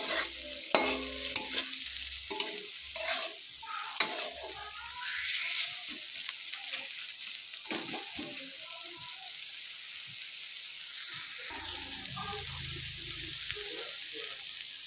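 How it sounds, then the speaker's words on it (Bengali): Potatoes and onions fry in oil for egg chowmein as a spatula stirs them, giving a soft sizzle with intermittent clicking scrapes against the pan, close by, with some quieter stretches between bursts of stirring. "পেঁয়াজের সাথেই একটু নেড়ে নেড়ে ভেজে নেব"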